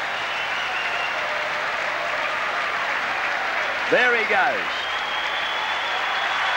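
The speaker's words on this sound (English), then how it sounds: "And the crowd giving him a true Commonwealth Games reception." Stadium crowd at the 1990 Commonwealth Games giving an athlete a sustained roar of applause and cheering, steady and broad throughout, with a commentator speaking briefly over it.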